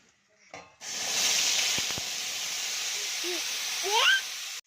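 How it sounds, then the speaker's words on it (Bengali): Spice paste dropped into hot oil in a kadai bursts into a steady, loud, close sizzle that hisses on for several seconds after a brief clatter. "এবার কড়াইতে পেস্ট করা মশলাটা দিয়ে দেব।"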